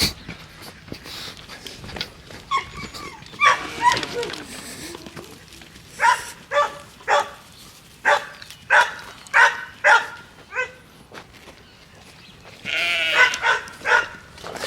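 A flock of sheep driven through an opened farm gate, with repeated loud bleats in an uneven rhythm close by, a dog-like bark or two and people calling out between the animal cries.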